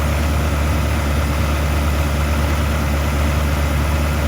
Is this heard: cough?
no